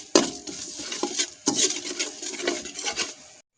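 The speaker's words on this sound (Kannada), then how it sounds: "ಇವಾಗ ಎಲ್ಲವನ್ನು ನೋಡಿ ಒಟ್ಟಿಗೆ ಎಣ್ಣೆಯಲ್ಲಿ ಫ್ರೈ ಮಾಡಿಕೊಳ್ಳಿ" Curry leaves, coriander seeds and garlic stirred together in hot oil in a pan for curry leaf chutney powder: a steady close sizzle broken by repeated scraping stirs, with no voices.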